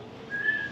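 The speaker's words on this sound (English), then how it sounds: "How about a nice, long whistle?" An Amazon parrot whistles one short, steady tone, clear and fairly close, held for under a second.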